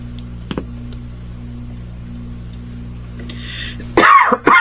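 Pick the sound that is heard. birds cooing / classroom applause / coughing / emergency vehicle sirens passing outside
coughing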